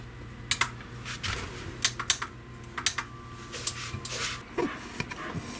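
Key pads of a 1925 Holton alto saxophone click shut in a quick irregular series of sharp taps, close and fairly loud, while the horn's keywork is checked for sealing after an overhaul.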